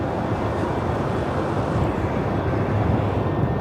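A Qantas airliner arrives at Melbourne Airport, its steady broadband engine roar loud and continuous overhead.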